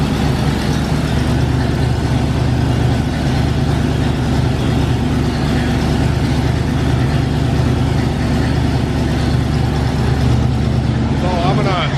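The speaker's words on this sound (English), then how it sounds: "it's only been running for a couple seconds and it's sitting here idling" A 500 cubic inch big block engine in a Cadillac-powered G-body car idles steadily with a deep, rumbling low hum, close by and continuous, just after starting, as someone talks over it.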